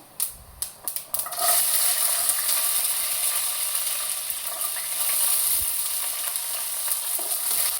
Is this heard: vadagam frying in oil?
yes